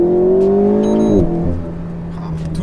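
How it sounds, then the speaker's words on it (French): Alpine A110S four-cylinder engine in the cabin, droning at steady revs with a rising tone, then a sharp jolt at a gear change as the pitch drops and settles lower. "Et le moteur, alors c'est un 4 cylindres certes,"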